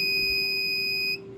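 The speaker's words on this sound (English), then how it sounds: "keypad beeps, kind of like a door chime." A Radionics 6112 security keypad sounds its door-chime beep for a faulted perimeter zone: one steady, clear electronic tone held for just over a second, then cut off, alone with no talk.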